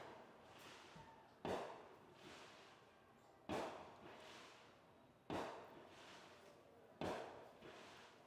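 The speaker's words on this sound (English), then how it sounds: "Fireworks are going off, and here come your Hahnville Tigers." Fireworks burst outdoors before a high school football game between Hahnville and H.L. Bourgeois, four sharp booms spaced a couple of seconds apart, each followed by a crackling tail over steady crowd noise.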